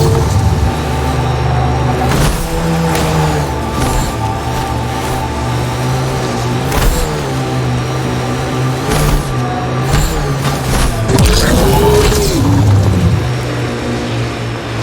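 A steady engine drone hums continuously in the video game Mass Effect Andromeda, with a shifting tone and occasional thumps and clatter over it, like a vehicle driving along.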